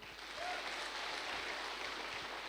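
An audience claps at a business talk in a steady, dense wash of applause that sounds somewhat distant and soft, with no pauses.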